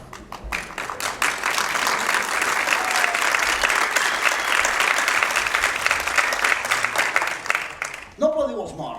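Audience applause at a live stage performance, loud dense clapping throughout that cuts off near the end as a voice begins speaking.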